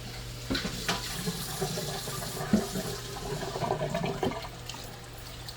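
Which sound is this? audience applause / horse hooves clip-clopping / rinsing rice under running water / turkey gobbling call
rinsing rice under running water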